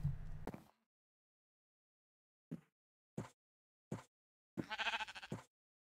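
Minecraft sheep bleating in short separate calls, one at the start and then four more spaced out over the following seconds, the last one longer and wavering, clear and close against silence.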